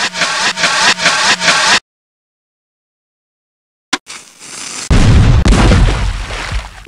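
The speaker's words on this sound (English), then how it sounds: "You fired that cannon like a seasoned deckhand." Several rapid bursts of blasting noise, then a stretch of silence, followed by a sharp cannon bang and a loud, rumbling roar that lingers.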